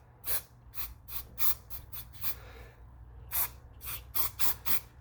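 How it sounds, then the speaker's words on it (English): A can of hairspray hisses in short, sharp bursts into a motorcycle handlebar grip, one quick spurt after another and then a second run of rapid sprays, close by and distinct over a quiet background. "And I just spray hairspray inside of it."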